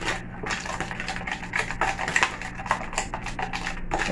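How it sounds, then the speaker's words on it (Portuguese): A spoon stirs a grape yogurt mixture, made from just two ingredients, in a container, giving a steady run of quick, close clinks and scrapes against the sides, with no talking. "Pega a colherzinha. Mexa bem, ó."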